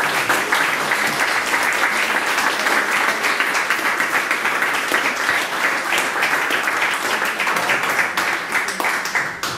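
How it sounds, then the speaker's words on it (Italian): A seated audience at an Italian book presentation on philosophy breaks into sustained, dense applause, steady and full for nearly ten seconds before tapering slightly at the end. "un bel applauso"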